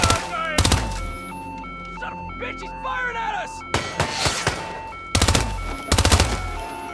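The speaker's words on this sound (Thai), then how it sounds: "ปืนมันลั่นเอง" Gunfire in the Hitman game, with a few sharp shots and short bursts spaced across the stretch, loud and close, and game sounds and voices in the gaps between them.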